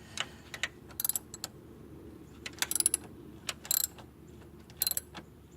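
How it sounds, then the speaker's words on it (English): A ratchet turns alternator bolts on a 1999 Cadillac Eldorado, giving several separate bursts of quick metallic clicking against a quiet garage background. "Ratchet this time. It's more quicker than a wrench."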